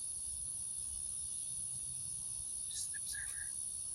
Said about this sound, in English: Cicada. Locust. Something.